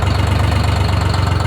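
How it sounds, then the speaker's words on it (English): A two-stroke Detroit 6-71 inline six diesel engine on Allis Chalmers equipment runs loud and close at a steady idle, with a rapid, even throbbing knock and no talk. "With two strokes, they sound like they're"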